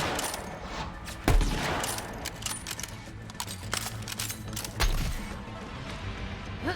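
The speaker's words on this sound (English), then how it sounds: "Let's try out the sniper rifle this time." Sniper rifle gunfire in the video game Borderlands 3, with two heavy booming shots a few seconds apart over dense, continuous game noise and effects.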